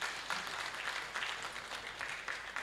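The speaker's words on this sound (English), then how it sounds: "Please clap for yourselves." Staff at a Uganda Bureau of Statistics event applaud themselves, a faint, distant wash of steady clapping that stays even throughout the short stretch.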